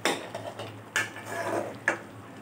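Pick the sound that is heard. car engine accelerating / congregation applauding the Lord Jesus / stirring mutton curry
stirring mutton curry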